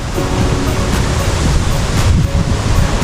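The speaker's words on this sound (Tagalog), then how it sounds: "malakas po ang hangin kaya po mga kababayan ingat po tayo ingat po tayo palagi dahil malakas po itong bagyong" Strong typhoon wind from Typhoon Kristine roars as a continuous broadband rush, loud and close with gusty swells and no pauses, no voices present.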